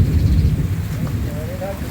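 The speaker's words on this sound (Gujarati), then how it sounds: "આજે મેઘરાજા મહેર કરીને વરસી રહ્યા છે તે આપ જોઈ શકો છો" Heavy monsoon rain falls outdoors in rural Gujarat as a loud, dense, continuous hiss with a low rumbling undertone.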